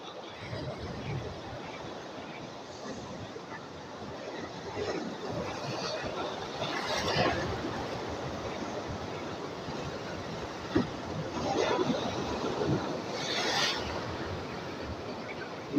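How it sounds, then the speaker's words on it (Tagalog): Ocean waves wash and surge around a small fishing boat at sea, a steady rushing wash with wind buffeting the microphone and occasional louder swells, no clear talk over it. "Baka tayo'y bayuin lang alon doon"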